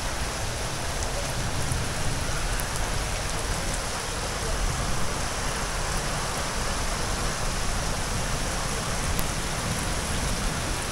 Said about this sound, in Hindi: ये देखो जी आज बहुत तेज बारिश है।